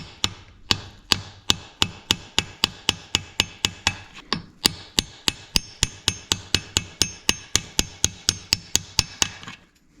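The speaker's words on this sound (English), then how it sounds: "I'm just going to press it in. And this is a 3/4 inch impact socket that should work well to" Rapid, steady metallic tapping as a seal is driven in with a 3/4 inch impact socket during a Willys Jeep pickup transmission and transfer case leak repair, about three sharp hits per second, loud and close, continuing throughout.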